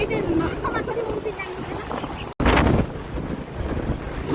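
Strong wind on an outing blasts across the microphone in a continuous rumbling roar, with a sharp gust surging just after a brief dropout midway, loud and close throughout.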